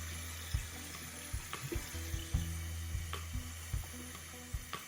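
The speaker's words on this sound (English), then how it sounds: "just rinsing this off" A glass mug rinsed under a running kitchen tap, with a steady water hiss broken by several soft clinks and knocks as the glass is handled, close and moderately quiet with no talk.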